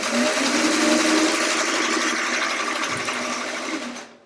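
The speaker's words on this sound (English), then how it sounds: "So you keep sewing." A sewing machine stitches jelly roll quilt strips, a fast, even mechanical whir that runs steadily at close range and fades out at the end.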